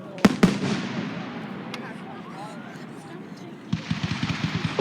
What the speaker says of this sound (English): Oh, we got rapid fire.